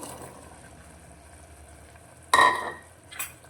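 Boiled peanuts are stirred into a simmering vegetable gravy. Low quiet bubbling gives way to one brief, loud splashing stir, followed by a smaller second scrape.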